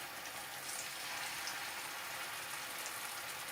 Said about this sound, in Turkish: Önce bir kızartacağız, mühürleyeceğiz iki tarafı da.